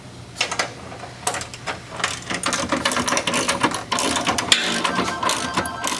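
Allen bolts with washers are tightened into the front subframe of a MINI, giving a steady run of close, rapid ratcheting clicks and metallic clatter with brief pauses between bursts.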